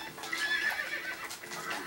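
A horse neighs in the Little Big Planet video game, a bright wavering whinny rising out of busy game sound, fairly faint and lasting under two seconds.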